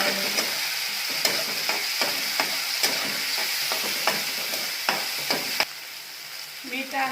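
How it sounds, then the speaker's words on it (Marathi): Tomatoes tossed into a hot frying pan for a methi bhaji and stirred, steady sizzling under repeated scraping and clacking of a spatula against the pan. "त्यात आपण टॅमॅटो टाकून घेणार आहे टॅमॅटोही टाकून घ्यायचे व्यवस्थित"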